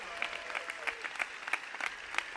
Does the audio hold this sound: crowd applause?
yes